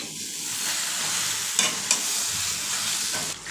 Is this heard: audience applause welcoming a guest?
no